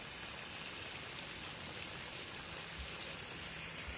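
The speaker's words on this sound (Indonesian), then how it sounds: "Ini pompa kecil, saya menggunakan pompa 600 watt ini." A small 600-watt water pump gushes a strong, steady stream of water at a constant, moderately loud level, with no one talking.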